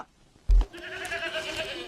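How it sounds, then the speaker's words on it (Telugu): A sheep gives one wavering, drawn-out bleat right after a short dull thump, fairly close and standing alone over quiet background. "డాడీ గొర్రెలు వచ్చారు."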